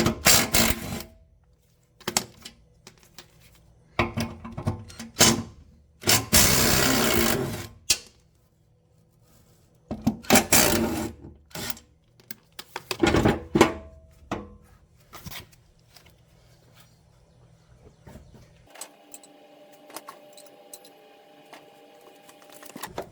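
Intermittent bursts of mechanical clatter and whirring as a spindle is removed from a Troy Bilt TB42 lawn mower deck, with quiet gaps between and a low hum in the background.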